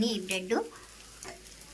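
A bread omelette fries in a pan with a soft steady sizzle, and a voice speaks briefly over it at the start.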